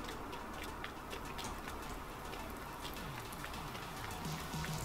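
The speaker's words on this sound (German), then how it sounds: "Oh, Regen." Steady rain in the farming game Landwirtschafts-Simulator 19, a constant dense patter of drops with faint ticking accents running evenly throughout, no voices.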